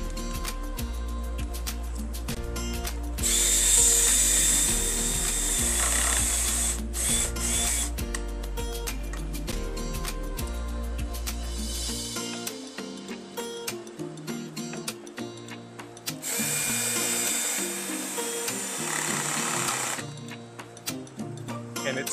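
A power drill driving screws into a wooden Adirondack chair in a home garage workshop, with loud bursts of whirring that stop and start, separated by quieter clicks and handling noises.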